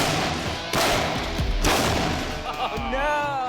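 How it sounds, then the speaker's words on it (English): An air cannon fires a soccer ball: sharp, loud blasts with thumping booms, followed by a short rattling tail. "they're building an air cannon designed to fire a soccer ball."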